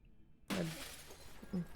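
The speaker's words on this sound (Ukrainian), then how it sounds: "Розбив скло." Window glass shatters in the Fears to Fathom horror game, a sudden loud crash followed by a spray of tinkling shards that fades out, with a smaller second burst of breaking glass near the end.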